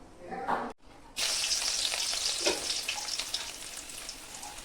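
Crushed ginger and garlic drop into hot oil in a pan, bursting into a loud, steady sizzle after a short pause and crackling evenly up close.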